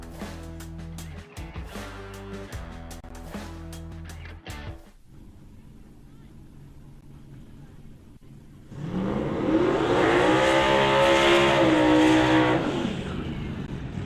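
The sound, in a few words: 2000 Chevy Camaro turbocharged LS drag car doing a burnout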